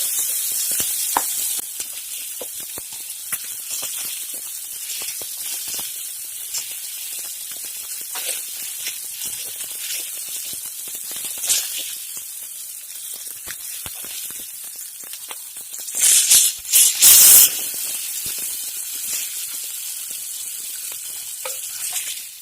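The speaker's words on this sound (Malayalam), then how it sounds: "ഇതിപ്പോ ഏകദേശം ഫ്രൈ ആയി കഴിഞ്ഞു." Fish for fish masala sizzles and spatters in hot oil, a steady crackling fry with sharper hissing bursts near the end, and no talking.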